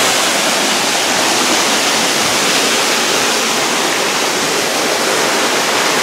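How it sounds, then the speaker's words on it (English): Loud, steady roar of rushing water in a forest in near-freezing weather, like a nearby waterfall or fast stream, constant throughout with no talking. "That water's loud."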